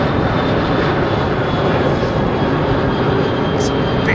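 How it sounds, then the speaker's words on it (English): An older Boeing 737 jet at London Heathrow Airport, a steady loud engine roar that stays level and continuous throughout, with no break or lull. "That's an old 737, isn't it?"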